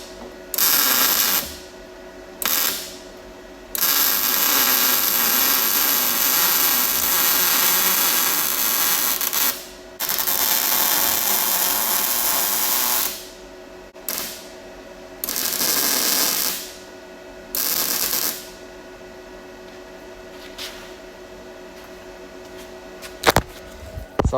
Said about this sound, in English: So I've done a little bit of grinding